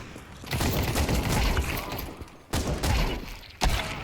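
Counter-Strike 2 gunfire rings out in three loud bursts, the first sustained for about two seconds, then two sharper volleys that break off abruptly.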